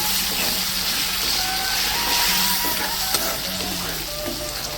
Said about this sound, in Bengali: এবারে ভালো করে নাড়িয়ে নেবো আমি।